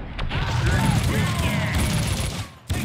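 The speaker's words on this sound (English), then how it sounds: "I can still hear gunshots." Gunfire in the Max Payne 2 video game, a dense, continuous burst of shots and crashing action filling nearly three seconds, loud and busy before a short drop-off at the end.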